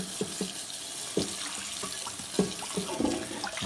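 Water splashing into a cast iron pan during cleaning, with a steady running wash broken by several short gushing bursts, up close and without speech.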